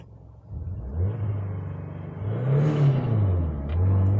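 An old Russian car accelerates hard in a 0-60 run, its small engine droning and revving up in two rising pulls with a brief shift between, a loud rough rumble from close by.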